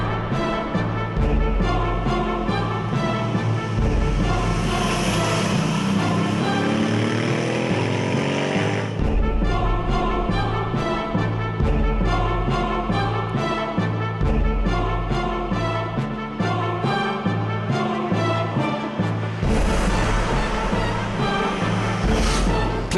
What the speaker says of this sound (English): you need to work the engine that much harder, which only means a better soundtrack to listen to